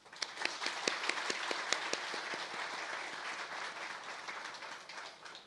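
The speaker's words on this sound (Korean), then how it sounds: "이제 인사할 때 우리 큰 박수로 격려하고 축복하겠습니다." A church congregation gives warm applause during a Sunday worship service to bless a departing pastor and his family, a steady wash of many hands clapping together with a few sharper claps standing out before it gently fades.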